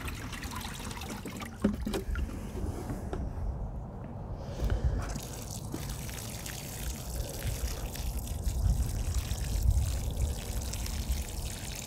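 Water trickles and pours steadily onto soil around newly planted strawberry plants, a close, continuous dribble with small splashes and uneven surges.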